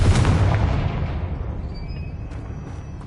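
A Confringo spell explosion in the Hogwarts Legacy video game bursts loudly at the start, then its rumbling blast fades out over a few seconds with faint high tones lingering.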